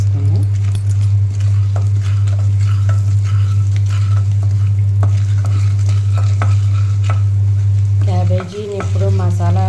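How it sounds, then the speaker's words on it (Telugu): Urad dal, cumin, asafoetida and dried red chillies fry in hot oil for a cabbage dish, a loud close sizzle with steady stirring scrapes and a low constant hum beneath, briefly shifting as a spoon moves near the end. "మినపప్పు, జీలకర్ర, ఇంగువ, ఎండుమిర్చి ఒకసారి ఫ్రై చేసుకుందాం."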